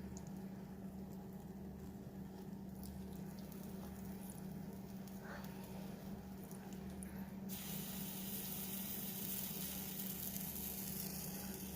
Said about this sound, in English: Those are the blueberries that are cooking